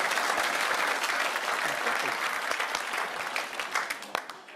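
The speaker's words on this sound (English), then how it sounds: "They're clapping." A studio audience at a comedy panel show claps in sustained applause with distinct individual claps, loud at first and gradually thinning and fading toward the end.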